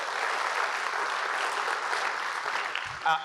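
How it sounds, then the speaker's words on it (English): A crowd applauds steadily at a Long Beach civic event, a dense wash of clapping that carries on evenly before tapering at the end. "I want to give them a big round of applause for their work"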